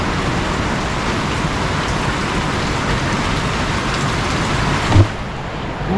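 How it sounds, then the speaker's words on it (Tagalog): Heavy rain pouring down in a steady, dense wash of noise, close and loud throughout, with a brief thump near the end. "Malakas ang ulan"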